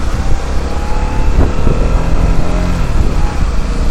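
A motorcycle engine on a riding-lesson ride, with a buzzy scooter-like tone, runs steadily and fairly loud with small rises in pitch as the throttle shifts, and no talk over it.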